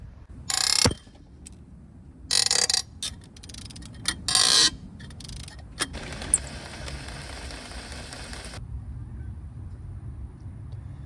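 A ratchet loosens a tight cylinder head bolt on a 2016 Jeep Compass engine, sounding as a few sharp metallic bursts and clicks, then a longer run of quick ratcheting clatter before falling quiet.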